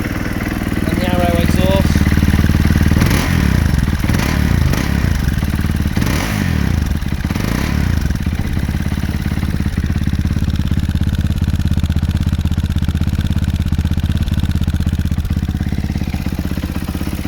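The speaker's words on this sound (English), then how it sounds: "So quite a nice sound to the basic Arrow exhaust" A Fantic Caballero Scrambler 500 Deluxe motorcycle electric-starts and idles with a deep, throaty Arrow exhaust rumble, close and loud, steady throughout with a few clattering thumps early on.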